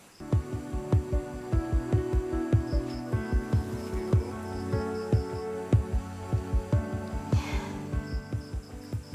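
A heartbeat sound effect thumps in a steady, even double-beat rhythm, loud and close, over a soft sustained musical hum in an Indonesian drama.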